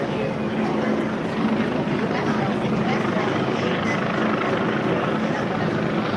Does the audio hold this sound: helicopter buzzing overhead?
yes